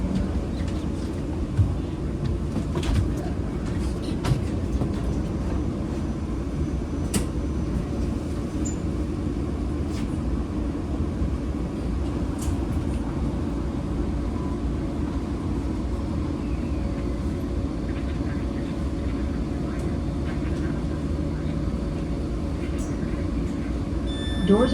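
Steady low rumble of a Caltrain Southbound Limited train 412 heard from inside the car while riding toward San Jose Diridon, with a continuous rolling drone and occasional faint clicks and squeaks throughout.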